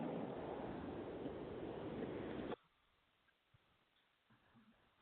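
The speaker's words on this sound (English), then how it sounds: "I heard the ocean." Ocean waves coming through a Skype call, a loud, steady, band-limited surf wash that abruptly cuts out halfway, leaving faint line noise and a few small clicks.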